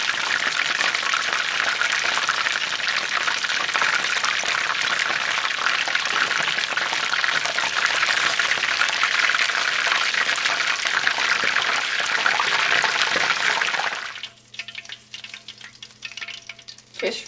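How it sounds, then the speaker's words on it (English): Battered fish for tacos fries in hot oil, a loud continuous crackling sizzle that runs for about fourteen seconds before dropping to a quieter, sparser bubbling. "while I continue to fry my fish"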